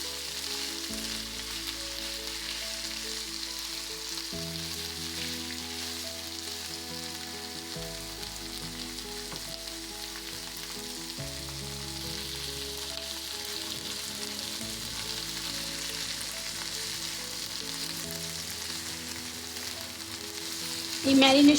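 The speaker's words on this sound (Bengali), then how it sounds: "প্রথমে পেঁয়াজ ভেজে নিচ্ছি। এবার চিকেনটা এর মধ্যে দিয়ে দিচ্ছি।" Marinated chicken and onions fry in a pan with a steady, even sizzle and hiss that holds for about twenty seconds, close-miked and constant, with a brief clatter right at the end.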